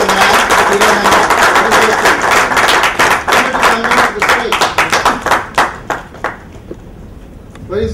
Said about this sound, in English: Get actually more clapping we require for one of the JVR and one of the Kiran